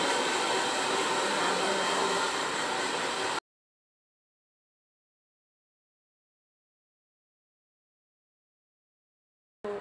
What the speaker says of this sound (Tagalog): Mag-blow dry na ako.